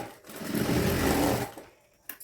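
A sewing machine runs a short close burst of rapid stitching as lace is sewn onto a blouse panel, then stops, leaving a few small handling clicks.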